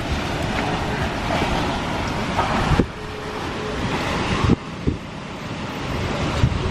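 Strong, roaring storm wind blows steadily with loud gusts and rumbling buffeting, battering close by, with a few sharp knocks.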